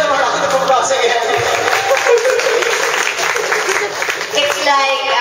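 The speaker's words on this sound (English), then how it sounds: "Let's give them a round of applause again." Lively applause from an audience after a performance by two children, with steady clapping mixed with cheers and voices chattering throughout.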